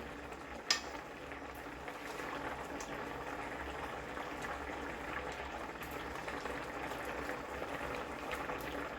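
A pot of rui fish and bitter gourd curry simmers uncovered, giving a soft, steady bubbling hiss that stays faint and unbroken throughout.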